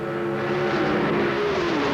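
Drag racing cars at the 1993 IHRA Empire Nationals Sportsman event, a C Econo dragster and a B altered, with a sustained engine roar under steady pitch that sags slightly near the end as they run down the track.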